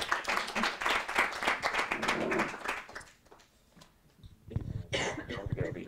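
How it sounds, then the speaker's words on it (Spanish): An audience at a summer school session applauds to encourage a group, a burst of close, lively clapping that dies away midway, with a cough and a brief second flurry of claps afterward. "Un aplauso para que se anime más."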